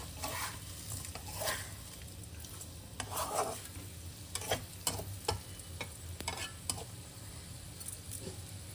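Sweet potato slices cook in a pan as sugar melts and caramelizes, giving a steady low sizzle with scattered clicks and light scraping of stirring throughout.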